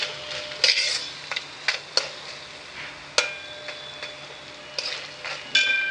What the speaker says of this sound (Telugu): ఇప్పుడు ఎర్రపడగానే పచ్చిమిరపకాయలను కరివేపాకు వేసుకుందాం.